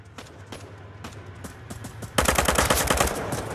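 Gunfire in the VR shooter Onward: sparse scattered shots early on, then from just past two seconds a dense, loud burst of rapid automatic fire crackling close by, with no talk over it.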